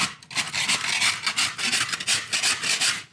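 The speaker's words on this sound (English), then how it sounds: "we'll scrape all this old crap off" Harsh rasping scrapes as old material is scraped off a brick garden wall, close and loud, in rapid repeated strokes with no talking.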